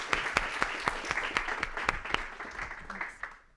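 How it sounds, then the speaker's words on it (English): A small audience at a developer tech lunch gives a closing round of applause for a speaker, with distinct individual claps over a soft mass of clapping that thins out and tapers off at the end. "Okay, so one more round of applause for Noel."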